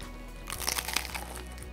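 Biting into a hard-shell fish taco gives a brief, quiet cluster of close crunches and crackles lasting about a second against a low background hum.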